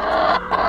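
A hen in a backyard coop gives two loud, close, drawn-out squawking clucks in quick succession, with no one speaking.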